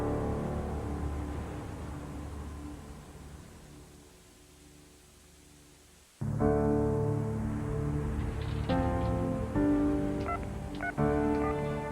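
Hissy background noise gives way to a phone being dialed for a local call: a run of short, clear keypad tones, close and distinct, with no talking.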